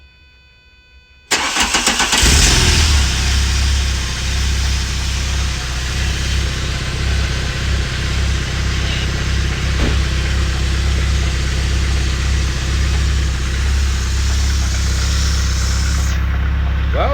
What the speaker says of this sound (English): I will have my son recording the engine while started